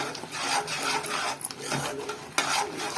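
Chilli masala curry made with bajji mirchi is stirred in a pan over low heat, a continuous close rasping scrape of the spoon across the pan's base with slight wet sizzle underneath.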